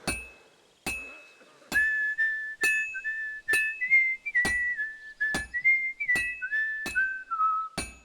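Melodic whistling in the video game Kingdom Come: Deliverance 2, a wavering tune of sustained and sliding notes over a steady, regular clicking beat that runs throughout.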